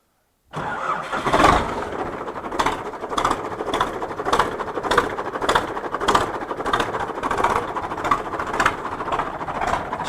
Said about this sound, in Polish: Silnik chodzi jak należy, bez dwóch zdań.